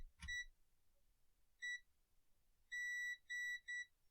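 Continuity beeps from a multimeter probing the board of an old Linksys router: a short click, then a single sharp electronic tone, followed by three quick beeps in close succession, clear against near silence.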